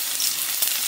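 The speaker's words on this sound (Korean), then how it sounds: "일단 대파 하고요. 그 다음에 생강을 먼저 넣어주세요. 넣어주시고 볶아요." Green onion and ginger hitting hot oil in a stir-fry pan, a dense bright sizzle that runs steadily through the brief moment with a small clatter near the end.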